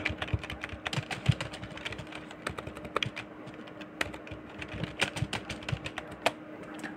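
Fingers typing a prompt on a computer keyboard, a near, irregular patter of crisp key clicks with occasional louder strikes, continuing steadily for several seconds without talk.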